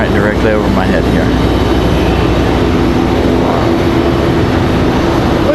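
A helicopter flies directly overhead near Raleigh Durham International Airport, a loud, steady rotor and engine roar filling the scene continuously, with faint chirps and a voice briefly heard.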